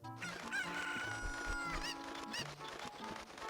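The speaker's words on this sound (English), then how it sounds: "Attack a chicken and get attacked by the chickens." Chickens in the Lowland Ranch area of an N64 video game, rapid game-audio clucks and a crow, busy and fairly close over light background music.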